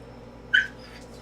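A newborn puppy lets out a single short, high-pitched whimper, close and clear against a quiet room.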